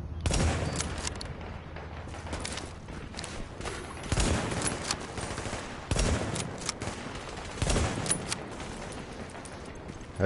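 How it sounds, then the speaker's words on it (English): A bolt-action rifle fires in the video game The Division, in repeated loud bursts of rapid shots spaced a couple of seconds apart. "For being a bolt action, this gun shoots pretty fast."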